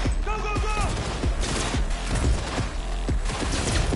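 Rapid gunfire in Cyberpunk 2077, a dense run of sharp bursting shots close up, with a brief tonal game sound near the start and a loud mix throughout.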